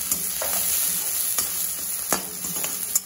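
Onions with a pinch of salt sautéing and being stirred in a pan, a steady close sizzle with occasional scraping knocks of the spoon, no voices.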